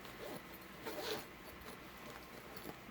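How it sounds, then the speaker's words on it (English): A faint, brief pull of a bag's single pocket zipper sounds amid soft rustling and handling noise, fairly quiet and close by. "there is a single pocket zipper there"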